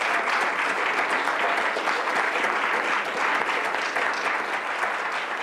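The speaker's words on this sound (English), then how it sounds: "Let's give him a round of applause." Dense round of applause from the audience at a Rochester Board of Education business meeting, honoring a staff member, steady and full throughout the few seconds.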